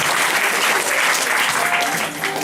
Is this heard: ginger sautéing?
no